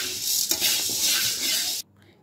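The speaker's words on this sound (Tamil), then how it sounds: "இதையும் நல்லா சிம்மில் வச்சு வறுத்துக்கோங்க வாசம் வர அளவுக்கு" Black peppercorns, 100 grams, dry-roasting over a low flame in a pan for a tamarind curry powder, a close, steady dry rustle and scrape that holds for almost two seconds and then stops abruptly.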